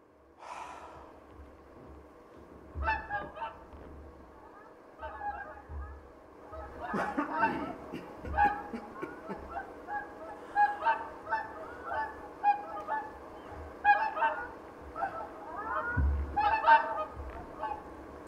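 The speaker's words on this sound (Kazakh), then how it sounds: "Қаздар қайтып барады мекеніне." A flock of geese heading home gives repeated nasal honking calls in bursts that grow busier and louder, mixed with breathy, snorting sounds.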